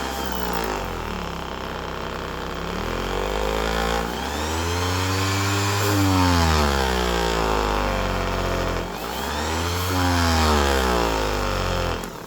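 A Makita 5-inch variable speed, handle style random orbit finish sander runs steadily, its motor whine repeatedly rising and falling in pitch as the speed changes, loud and close with no talking.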